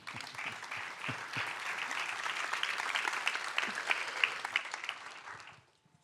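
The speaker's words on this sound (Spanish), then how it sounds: "le vamos a dar un fuerte aplauso." A youth church audience gives a round of applause, many hands clapping in a steady, fairly close burst that swells slightly before fading out abruptly near the end.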